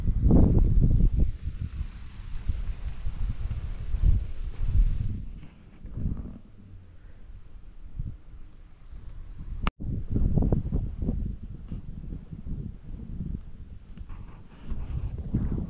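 Gusty wind blows through an outdoor garden of onions and papaya trees, buffeting the microphone in low, rumbling bursts that rise and fall. A short lull comes midway, then the gusts return. No one speaks.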